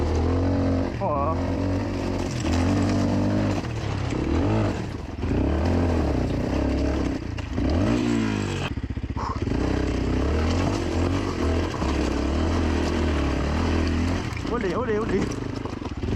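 A Beta RR 125 LC two-stroke enduro motorcycle revs and bogs as it rides over slippery terrain, the engine note repeatedly rising and falling in pitch, close and prominent, with a rider's brief exclamation over it.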